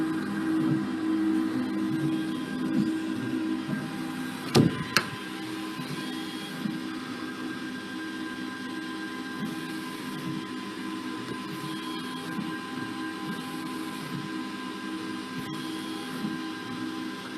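An industrial 3D printer prints a part, giving off a steady mechanical hum with constant tonal whine and fan drone, broken by a couple of brief sharp clicks.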